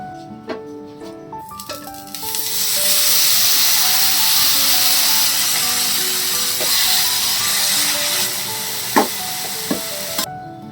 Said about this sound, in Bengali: এবার এই প্যানটার মধ্যে তরকারিটা গরম করে নিই।